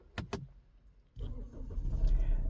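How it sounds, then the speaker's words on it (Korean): A Kia Sportage with a failed alternator is started after stalling: two sharp clicks come first, then the engine catches and settles into a close, rumbling idle. "네 시동 걸렸습니다"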